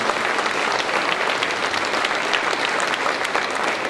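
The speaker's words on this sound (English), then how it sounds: "So I want to give Bob Frank an enormous round of applause." Dense, steady applause from an audience at a mayor's news conference in Albuquerque, many hands clapping together at an even level for the full stretch with no voices over it.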